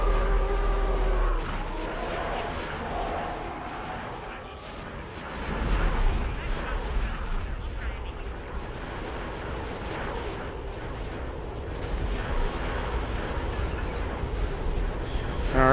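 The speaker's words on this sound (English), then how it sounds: "Let our cannons do all the work here." Starship cannons fire steadily during a space battle in the X4 Star Wars mod video game, a continuous dense barrage of booms and blasts with engine rumble and no talk.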